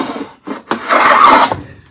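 A plough plane cutting a quarter-inch groove in wood, heard as a couple of short rasping pushes followed by a longer loud shaving stroke, close and alone.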